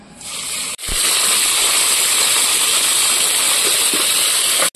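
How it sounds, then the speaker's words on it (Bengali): Cauliflower dropped into hot oil left from frying fish, a sudden loud hiss that swells into a continuous, intense sizzle and stays steady to the end, with no talking. "মাছ ভাজার তেলে আমি ফুলকপি আর আলু দুটোই ভেজে নেব"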